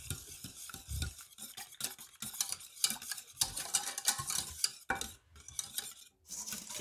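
A cream cheese mass being stirred in a pot until smooth, with a continuous scraping and sloshing of a spoon against the metal, quick and rhythmic, close and with no voices.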